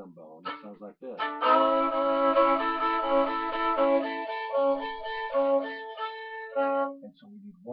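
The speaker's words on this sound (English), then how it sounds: "that is called a shuffle rhythm bone." A fiddle bows a shuffle rhythm pattern, with clear sustained notes and quick rhythmic bow changes repeating across a short phrase, heard close and alone.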